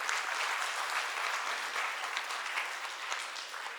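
Guests at a felicitation ceremony for a classical dance arangetram give a long round of applause, heard fairly faint and distant but steady throughout.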